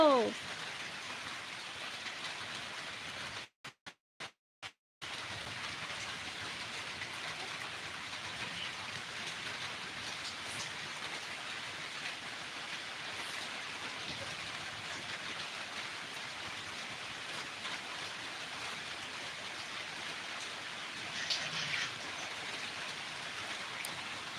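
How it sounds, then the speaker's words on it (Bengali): Steady rain falls continuously, a dense even hiss of drops on surfaces, with a few brief dropouts early on. "এখানে অন্ধকার হয়ে বৃষ্টি আসলো গো"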